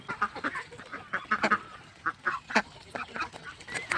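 Farm ducks feeding on rice bran and boiled rice keep up a run of quacks and honks that overlap, some near and some farther off, with no talk.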